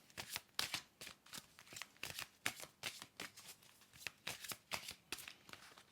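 Oracle cards being shuffled by hand, a rapid series of crisp riffling flutters in an even rhythm, close and fairly quiet, with no voices.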